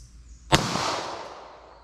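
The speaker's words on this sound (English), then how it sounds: "So I'll see what I can do here with our 9mm revolver. I'll try double action, see if I can make any hits." A single sharp gunshot from a Winchester Ranger One 9mm snub nose revolver fired double action outdoors, loud and close, followed by a long fading echo.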